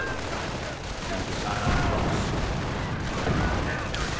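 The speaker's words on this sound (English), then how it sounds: "Mortar rounds landing down" Mortar rounds land amid continuous battle noise in a strategy video game, a dense rumbling wash of explosions and gunfire with a voice talking over it.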